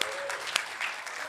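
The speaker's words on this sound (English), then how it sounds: "All right, let's give him one more hand." Audience in a church on a Sunday morning gives a round of applause, a steady wash of clapping with a few sharper claps, moderately loud and continuous throughout, with no talking.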